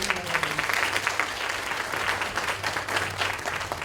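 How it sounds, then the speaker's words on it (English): Steady applause from a crowd at an office open house, sustained clapping throughout with no break. "please join me in a round of applause"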